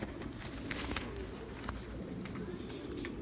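Pigeons coo softly in a Rampur pigeon-keeping setting, faint calls over steady background hiss with a few brief clicks.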